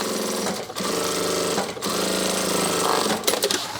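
Sewing machine stitching down the bottom of a drop liner tote bag, a fast, even mechanical chatter in close bursts separated by brief pauses.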